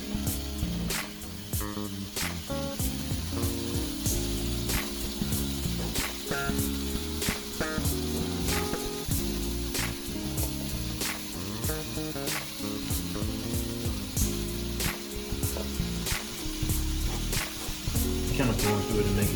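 Onions fry in a skillet with a steady, close sizzle that runs throughout, along with occasional stirring clatter and a voice talking over it at times.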